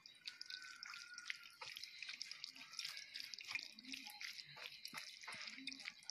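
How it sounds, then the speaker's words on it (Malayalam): Chhena for rasmalai is rinsed with small pours of water, a faint close trickle with scattered drips and splashes. "കുറേശ്ശെ കുറേശ്ശെ ഒഴിച്ചിട്ട് ഒന്നിങ്ങനെ ഒന്ന് കഴുകിയെടുക്കുക"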